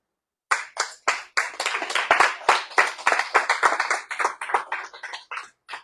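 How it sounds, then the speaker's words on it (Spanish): A church congregation clapping during a Sunday service: a few separate sharp claps at first, quickly swelling into a close, crisp burst of many hands, then thinning back to scattered claps at the end. "¿No le das gracias con un aplauso,"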